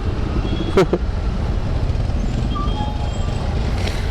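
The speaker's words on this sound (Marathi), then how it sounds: "Bumper to bumper traffic." Dense road traffic on the Western Express Highway in Mumbai, a steady low rumble of engines with a brief horn-like burst early on, continuous and close throughout.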